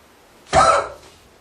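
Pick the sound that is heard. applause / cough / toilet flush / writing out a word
cough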